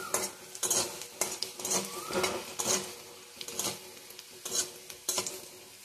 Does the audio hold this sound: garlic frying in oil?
yes